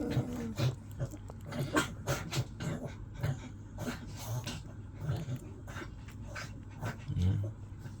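A dog whimpers and pants close to the mic, with short yelps and bark-like bursts scattered through a steady stretch of restless, whiny vocalizing and rustling.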